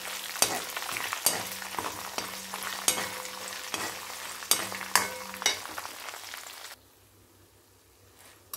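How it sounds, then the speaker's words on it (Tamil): Red chillies and lentils fry in a pan with a constant crackling sizzle, broken by repeated sharp scraping strokes of stirring; the sound drops away abruptly near the end, leaving quiet. "எல்லாம் நல்லா வறுபட்டுருத்து."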